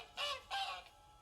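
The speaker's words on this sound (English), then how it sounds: "This has got to be the goose in question" A goose in The Witcher 3 honks twice in quick succession, close and clear, each a short nasal blare, then falls quiet.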